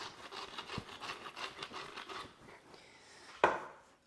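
Soft, rhythmic rubbing and crumbling as butter is worked into flour by hand for a Buxton pudding, faint and close, ending with a sharper clack.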